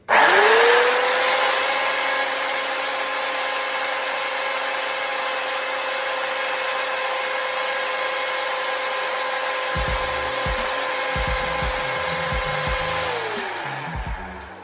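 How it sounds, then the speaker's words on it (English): A power sander works a wooden barn door, its steady high motor whine running unbroken for most of the stretch, with rough, bumping grinding entering near the end before the motor spins down. "So you can adjust the sander so it stays in the middle, as you're about to see."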